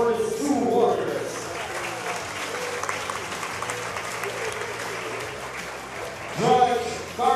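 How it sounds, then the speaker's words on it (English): A boxing audience claps and cheers for two professional fighters after their bout, sustained dense applause with crowd noise throughout, and an announcer's voice booming over it near the start and again at the end. "round of applause for these 2 warriors"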